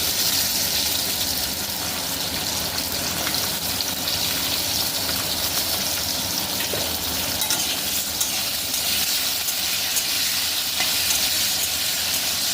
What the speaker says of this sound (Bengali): রাঙা আলুগুলো একটু ভাজা ভাজা করে নেবো